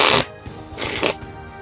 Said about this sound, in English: Ooh, very nice shuffle.